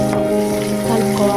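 Onions fry in a pan with a steady, close sizzle that runs through a short burst.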